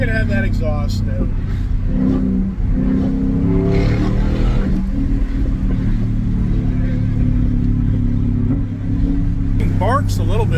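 At a Sunday car meet, a car exhaust growls and revs steadily nearby under almost continuous talk, with a barking note rising and falling throughout.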